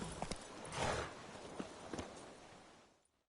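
Hooves of the horse Roach clip-clop in a video game, a short run of walking steps, faint and fairly close, slowing and fading to silence at the end.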